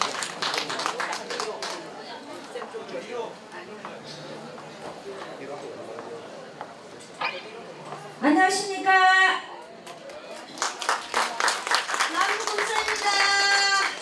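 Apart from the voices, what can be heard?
audience applause welcoming singers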